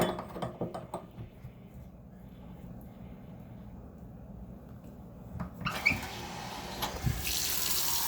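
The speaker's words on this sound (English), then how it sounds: "Hot water comes on, turns off. Cold water turns on, turns off." Hot and cold water taps on a just-repaired faucet are switched on and off, quiet mechanical clicks and then a hiss of running water that starts loud near the end.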